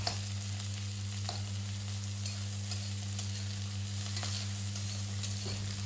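Onions, green chilies and curry leaves fry in a pan with a steady, close sizzle, while faint stirring scrapes come through over a constant low hum.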